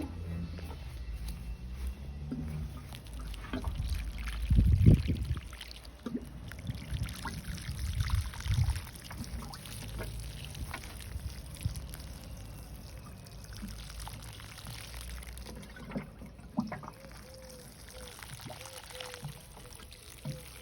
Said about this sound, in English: And then give that a good water and plant feeding.